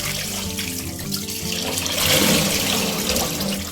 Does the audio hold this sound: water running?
yes